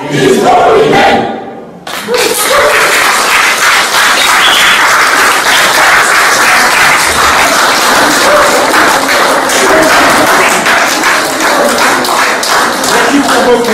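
After a gospel choir song at a concert in Orleans, France, an audience breaks into loud, sustained applause and cheering that fills the room, with a brief lull before the clapping surges back.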